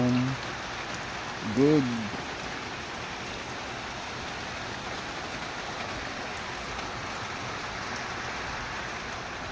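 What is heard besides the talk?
rain falling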